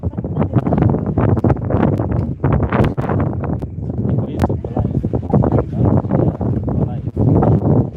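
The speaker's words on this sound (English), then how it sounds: "So like the wind is blowing so hard up here" Strong wind buffets a microphone high up outdoors, heavy rumbling gusts and irregular thumps that crowd out most other sound, with voices talking faintly underneath.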